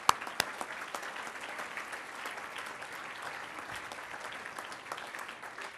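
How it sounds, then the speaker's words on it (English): An audience applauds board volunteers at a Junior Achievement business hall of fame event in Butler County, a steady sustained crowd clapping with a few sharp nearby claps standing out. "Let us give you a round of applause."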